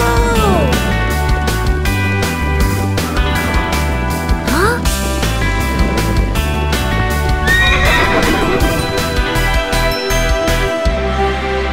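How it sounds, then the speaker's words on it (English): A cartoon Pegasus neighs and whinnies loudly over bouncy music, with clip-clopping hooves and light jingles throughout. "I'm riding a Pegasus!"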